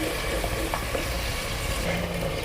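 Onion and tomato paste frying in hot oil for a curry cooked over a wood fire, a steady close sizzle with light scraping strokes of stirring, no talking.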